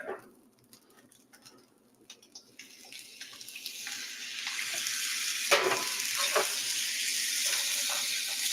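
Spam fried rice sizzles in a pan, starting with a few scattered clinks and quiet crackles, then building into a loud, continuous hiss of frying with occasional stirring clatters.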